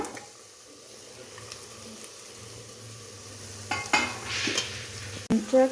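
Ground masala paste is added to tomatoes in a hot frying pan for egg biryani and stirred, giving a steady close sizzle with wet scraping strokes that swell louder near the end.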